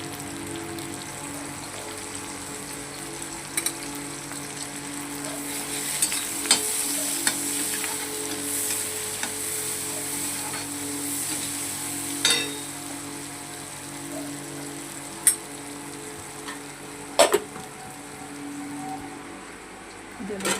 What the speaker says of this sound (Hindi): जल्दी वाला पोहा बना रही हूँ, बस टमाटर प्याज डाली, हरी मिर्च डाली